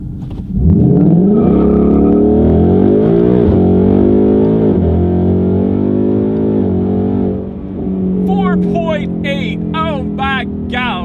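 A 2019 Ford Mustang GT launches from 0 to 60 mph, its V8 roaring loud and close, rising through the revs with shifts, ending in excited voices and a final rev.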